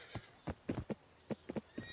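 A horse in the Ottoman-era video game Zaptiye gives a short neigh amid a run of clip-clopping hooves, about eight distinct beats, close and clean.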